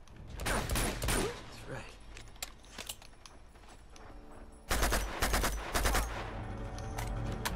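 Gunfire in Uncharted 2 comes in loud rapid bursts, a stretch of shots early on and a heavier cluster later, over game ambience, while someone talks briefly.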